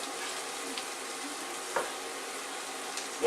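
Trinity vegetables sizzle in a pot with butter for corn chowder, giving a soft, steady frying hiss broken by a few faint clicks from stirring.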